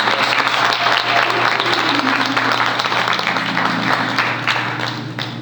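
A church audience claps in sustained, dense applause that fades slightly toward the end.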